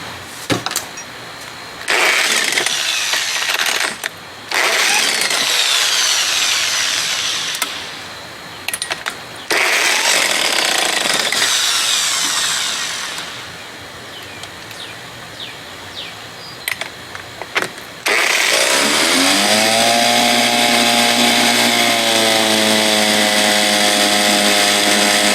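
Power drill whirring in bursts during repair work on a 1975 Johnson 4 hp outboard motor, several starts and stops of a loud, close motor whine, ending with a sustained run that shifts pitch near the end.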